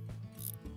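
Metal nuts being tightened onto the bolts of a DIY kayak J-rack rooftop mount, a short burst of close ratcheting and clicking with a brief metallic rub, heard alone.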